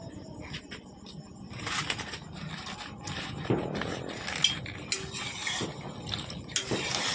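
A spoon stirs warm powdered milk in a cooking pot for sweet yogurt, making continuous scraping, rubbing strokes against the pot, close up and fairly steady.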